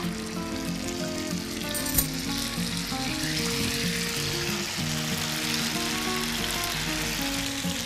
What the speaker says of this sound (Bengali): এটা একটু লাল করে ভাজা হবে